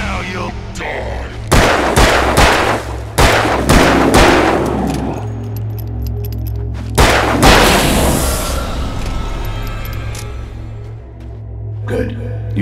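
Gunshots in Alan Wake, several loud, sharp reports in uneven succession, each ringing out into a fading tail, with a voice speaking between them.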